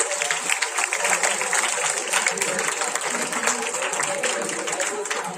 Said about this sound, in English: Kindly clap for the winners.